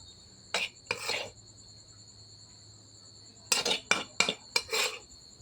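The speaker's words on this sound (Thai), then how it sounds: "แล้วตักใส่จานนะครับ" A utensil scrapes and scoops pork fried rice from a pan onto a plate in two clusters of short scraping strokes separated by a quiet pause, close and fairly crisp, with a steady high insect-like hum underneath.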